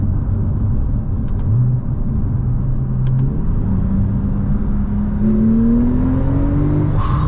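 A 2016 Porsche 911 Turbo accelerates hard from inside the cabin, its engine note climbing steadily through the gears with a deep rumble and rising whine, a few faint clicks along the way.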